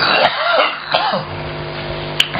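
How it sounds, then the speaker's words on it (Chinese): A man coughs and clears his throat in a few harsh bursts, close to the microphone, then falls quiet as faint room noise carries on. "师傅咳嗽了啊，没有关系"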